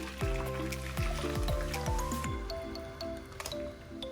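Curdled milk for homemade paneer poured through a sieve, a soft wet squishing and dribbling of liquid, close and fairly quiet, with steady trickling that fades toward the end.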